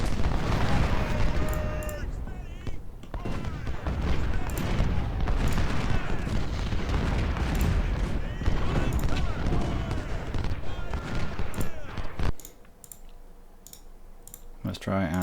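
Booming cannon and artillery fire from the Civil War battle game Ultimate General, with rapid clicking and scattered gunshots in a dense, continuous barrage while a voice talks over it.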